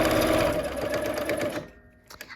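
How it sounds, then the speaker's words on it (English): Sewing machine stitching quilt fabric, running in a fast steady whir for about a second and a half before stopping, followed by faint handling clicks. "I like to sew with my needle down."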